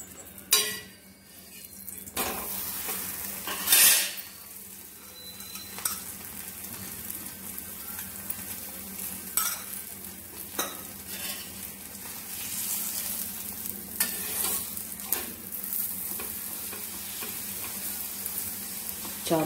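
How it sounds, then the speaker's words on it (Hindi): A paneer paratha cooks in ghee over a low flame, giving a soft, continuous sizzle with occasional scraping and clinking of a utensil, close by and with no one talking. "इस पर घी डालकर इसी तरह से हमें धीमी धीमी आंच पे पकाना है।"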